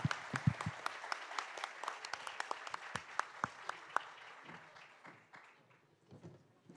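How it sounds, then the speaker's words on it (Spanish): A seated audience claps for a discussion panel's panelists. The applause is fairly soft, with distinct individual claps that thin out toward the end. "Un aplauso para nuestros panelistas."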